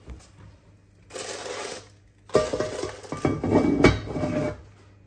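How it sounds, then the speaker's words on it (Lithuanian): Cranberry-pecan sourdough placed into a preheated pot, covered with its lid and slid into an oven: a quiet start, then two bursts of close metallic clanks, scrapes and rattles of cookware. "paruoštą tešlą įdėjau į įkaitusį puodą, uždengiau dangčiu ir įdėjau į orkaitę"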